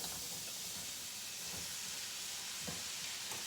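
Shrimp, broccoli and other vegetables sizzle together in a pan, a steady, even hiss with faint crackle, moderately close and unbroken, with no talking.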